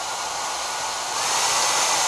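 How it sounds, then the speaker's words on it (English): A hairdryer running off a portable power station's AC inverter, a steady loud blowing whir that grows slightly stronger partway through and then holds level. "we can now turn on the hairdryer"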